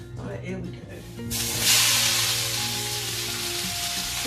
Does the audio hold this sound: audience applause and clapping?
no